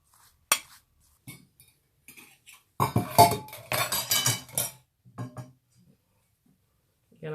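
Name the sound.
spreading peanut butter on moringa pancake with cutlery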